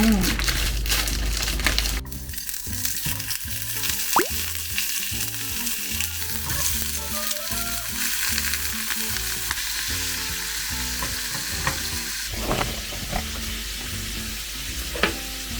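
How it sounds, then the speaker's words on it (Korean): Beef tripe (makchang) fries in a frying pan with a loud, steady crackling sizzle and occasional pops and stirring clatter, while a person talks over it at times. "이거는 후라이팬에 한번 해보도록 하겠습니다."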